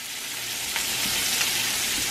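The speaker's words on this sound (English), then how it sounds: "We got steak and sizzle today." Filet mignon steak frying in a hot pan, a steady broadband sizzle that holds evenly at moderate loudness, close by, with no talk over it.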